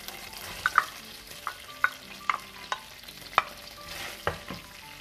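Chopped onion cooks in oil in a frying pan, with a soft, steady sizzle beneath a string of sharp, irregular spatula clicks and scrapes against the pan, close and moderately quiet.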